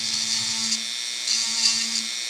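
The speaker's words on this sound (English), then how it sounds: "first, I'm going to take a Dremel tool, and we're going to get in here" A Dremel rotary tool whines steadily at high speed while cleaning seam lines on a creature model, a close, continuous buzzing hum with slight surges as it bites into the material.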